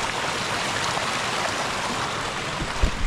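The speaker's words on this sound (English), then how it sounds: "Huge, awesome amount of water is coming out." Water gushes out in a heavy, steady rushing flow at a fish farm, a constant close roar with a couple of low thumps near the end and no voices.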